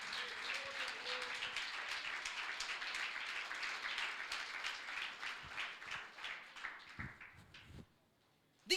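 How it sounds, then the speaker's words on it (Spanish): Church congregation applauding, a dense, sustained patter of many hands clapping that fades out toward the end. "Denle un aplauso al Señor, por favor, porque Dios restaura matrimonios."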